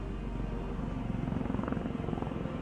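A helicopter approaching over snowy wilderness, a steady low rotor drone with rhythmic pulsing that swells slightly as it nears, continuous and fairly distant.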